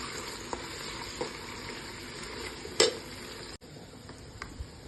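Two spoonfuls of ginger garlic paste fry in hot oil in a pot, giving a steady soft sizzle with a few light clinks and stirring scrapes, and no talking.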